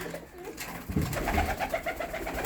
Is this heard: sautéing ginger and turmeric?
no